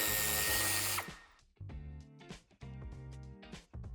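A power tool whirs in short bursts while backing out the screws holding the tail light of a 2020 Suzuki Swace, close and fairly loud, with brief pauses between spins.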